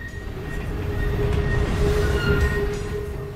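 A long model train rolls along a model railroad club layout, a steady close rumble with faint wheel clatter and a thin squeal, carrying on alone for several seconds.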